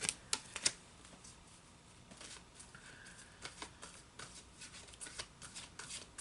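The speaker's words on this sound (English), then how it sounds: "I shuffled these cards" Playing cards are shuffled with a quick riffling flutter, then soft scattered shuffling and rustling, quiet and close.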